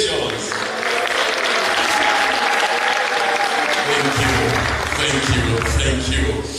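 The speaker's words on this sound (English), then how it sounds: "Let's clap for them." Sustained applause from a graduation ceremony audience at a theological seminary, a dense steady roar of many hands clapping throughout, with voices mixed in beneath.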